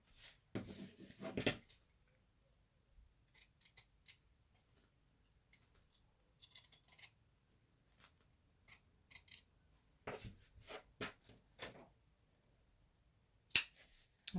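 Scissors snip through fabric pieces for a sewn water bottle carrier in short, intermittent bursts separated by quiet pauses, close and fairly soft, with a louder snip near the end.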